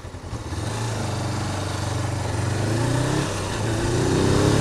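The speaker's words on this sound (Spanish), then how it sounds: "Su sonido bicilíndrico es muy agradable." Suzuki GS500 twin-cylinder motorcycle engine running steadily and close, its low rumble climbing in pitch as the rider revs and accelerates toward the end.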